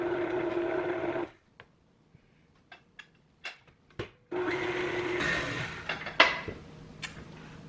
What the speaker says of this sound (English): get the mixer going up to medium, and we'll check back when this is all mixed in